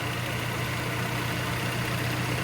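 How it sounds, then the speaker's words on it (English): A car engine idling with its cooling fans running, a steady close hum and whir with a constant low drone and no variation. "your fans are working like they should be"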